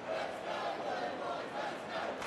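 A large crowd at an AFL football match between Hawthorn and Carlton roars in a sustained, swelling wave of cheering and shouting, moderately distant and filling the whole moment.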